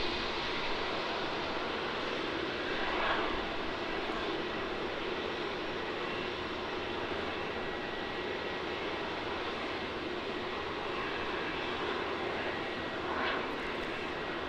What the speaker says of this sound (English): This is going to be Qantas flight QF132, arriving from Christchurch.